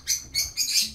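Birds call outside in three or four quick, high, shrill bursts close together, loud and without any talk over them.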